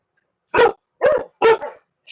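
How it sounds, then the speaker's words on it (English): Dogs bark in three sharp, separate bursts about half a second apart, loud and close, with no talk over them. "these dogs drive me nuts"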